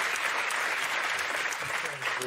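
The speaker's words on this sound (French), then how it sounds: "On peut les applaudir." A studio audience applauds two 12-year-old mental arithmetic prodigies with dense, steady clapping and a voice briefly audible underneath.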